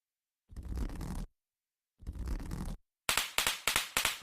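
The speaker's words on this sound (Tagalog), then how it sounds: "Ito ang watusi. Isa sa ginagamit namin na paputok. Ikikis-kis mo lang siya sa simento at magi-spark na yan." A watusi firecracker scratched against cement: two rough scraping strokes, then a quick run of sharp crackling sparks, close and loud, with no voices.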